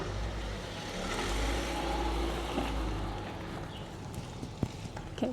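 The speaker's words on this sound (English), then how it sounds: "I hear a car coming." A car passes at a distance on a rural road beside a horse at a gate, a low engine rumble swelling and then fading, with some hoof clops toward the end.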